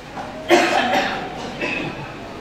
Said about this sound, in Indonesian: Batuk dah.